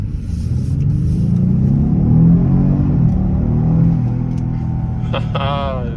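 Genesis G80 3.3t sedan fitted with DIY intakes accelerating, a loud low engine rumble swelling and holding under steady road noise, with a brief whine rising near the end.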